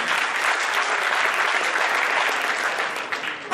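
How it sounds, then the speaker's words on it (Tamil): Sustained applause from a large audience at a film success celebration, dense and steady throughout, loud and close with no voices standing out. "அவங்களுக்கு எல்லாருமே ஒரு பெரிய ஒரு கைத்தட்டல் கொடுத்தா ரொம்ப நல்லா இருக்கும்"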